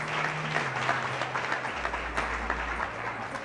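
Audience at a modelling contest show applauding the finalists, even steady clapping throughout with low music underneath.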